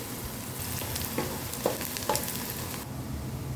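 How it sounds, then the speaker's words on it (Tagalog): Chopped onion sautés in a hot pan for an Indian chicken curry, giving a steady close sizzle with a few soft stirring clicks and scrapes. "sauteing onion."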